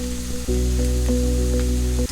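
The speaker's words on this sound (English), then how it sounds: "adding a pinch of salt while sauteing the onions" A steady sizzle of onions sautéing with a pinch of salt in a hot pan, continuous and close, with a low hum running underneath.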